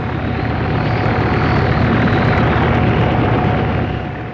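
A loud, steady roar of a helicopter flying close overhead, with a rumbling rotor and engine drone that fades slightly at the end.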